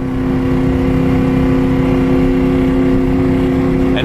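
A misfiring Police Interceptor car that is struggling to shift and low on transmission fluid drones loudly and steadily from inside the cabin, its engine humming at an unchanging pitch with no clear gear change.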